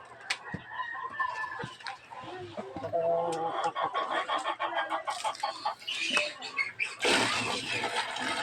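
Chickens kept as backyard poultry cluck and a rooster crows nearby around a water trough, in repeated short calls over steady farmyard background, with a person speaking intermittently.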